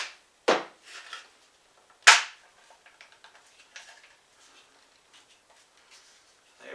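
An ATI StrikeForce stock is fitted onto an SKS rifle: two sharp, close knocks of parts seating, followed by a scatter of small clicks and faint rattles as the pieces are lined up.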